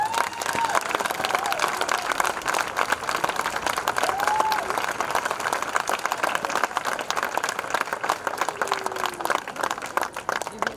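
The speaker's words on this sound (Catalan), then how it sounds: "Us demano a tots un fort aplaudiment per totes elles." A crowd at a summer town festival stage event gives loud, dense, sustained applause for about ten seconds, a continuous wash of many clapping hands with faint cheering mixed in.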